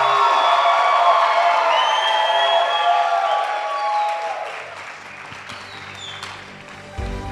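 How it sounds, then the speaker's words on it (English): Wedding guests applaud and cheer for the bride, with loud, dense clapping mixed with whoops and shouts. The noise is near and sustained, then tapers off toward the end. "Can you guys give a big round of applause for my beautiful wife?"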